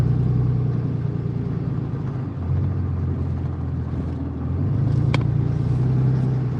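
A classic car drives through a town in Roswell, New Mexico, its engine giving a steady, close, low-pitched rumble from inside the cabin that swells and eases slightly as it moves, with no talking.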